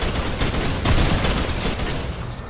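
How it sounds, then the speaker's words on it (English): Sustained rapid automatic fire from a drum gun in the Fortnite video game, a dense continuous burst of loud close shots running through the whole stretch with no talk. "Oh, the drum gun took him out."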